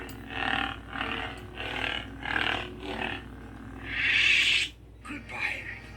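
Chewbacca roar sound effect played from a lightsaber's built-in speaker, a series of growling grunts and warbling roars in bursts, ending in a longer loud howl, close and slightly tinny.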